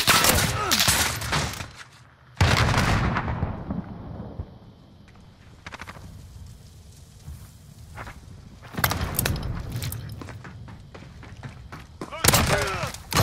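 Gunfire in the Call of Duty: Modern Warfare video game, including a shotgun, comes in several loud, sharp bursts with quieter stretches of game ambience between them.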